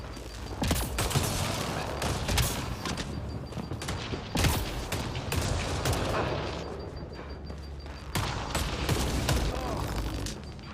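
Gunfire in the sci-fi shooter Mass Effect Andromeda: dense bursts of sharp shots crack repeatedly in clusters, loud and close, with short gaps between volleys and a rumbling battle backdrop.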